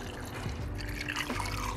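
Coconut water pouring and trickling out of a freshly opened coconut, a steady close liquid splash and dribble running through the whole short stretch.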